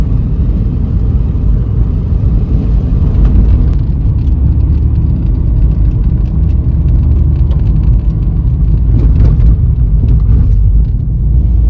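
Small car driving up a snowy mountain road toward Mount Nemrut, a loud, steady low engine and tire rumble heard from inside the vehicle with no talk.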